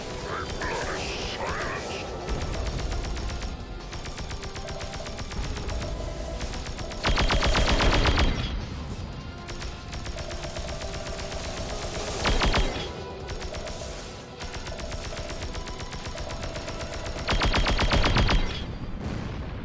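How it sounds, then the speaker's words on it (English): Automatic AI-controlled turrets fire in the space game Darkstar One, with sustained rapid bursts of gunfire running through the whole stretch and a few louder surges among the steady shooting. "turrets that shoot at something other than what you're aiming at. They're just automatic AI-controlled turrets."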